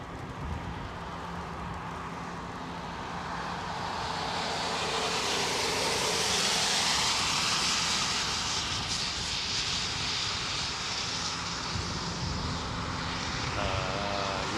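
Jumbo jet taxiing at Anchorage airport past a parked MD-11, a broad roaring jet engine rumble and whine that swells as it passes close, then holds steady and loud.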